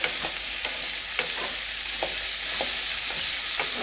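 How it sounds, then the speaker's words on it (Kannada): Okra fries in hot oil with a constant bright sizzle, while a spoon stirs it in a steady rhythm of soft scrapes, close by and with no voices. "ಬೆಂಡೆಕಾಯಿನ ಎಣ್ಣೆಲಿ ಹಾಕಿ ಉರಿಯೋದ್ರಿಂದ ಅದು ಲೋಳೆ ಏನಿರುತ್ತಲ್ಲ ಅದು ಎಲ್ಲ ಹೋಗುತ್ತೆ"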